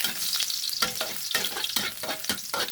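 Glass noodles with egg are stir-fried in a hot wok: a loud, constant sizzle with rhythmic scraping strokes of the spatula roughly every half second, close up and with no talking.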